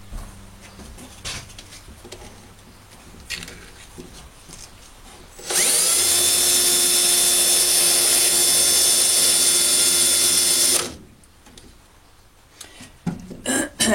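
Rotary power tool spinning against a Yamaha F90 outboard engine valve to scrape off carbon, a loud steady high whine lasting about five seconds between quieter handling noises.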